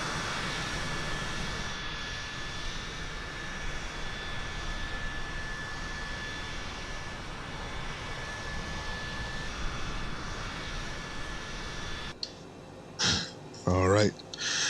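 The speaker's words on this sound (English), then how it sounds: "Let's go outside and let's do the engines real quick as it gets started up." A Cessna C510 Mustang jet engine starts up in Microsoft Flight Simulator 2020, giving a loud, steady roar with a high whine. It holds for about twelve seconds, then drops away as a voice speaks over quieter engine noise.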